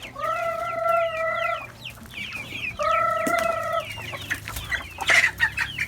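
Chickens being fed clucking and calling in two drawn-out bursts amid scattered softer clucks, with faint rustling and background noise around them.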